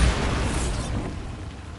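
Bombarda spell explosion in the Hogwarts Legacy video game, a loud, broad burst with a deep rumbling boom that slowly fades away over about two seconds.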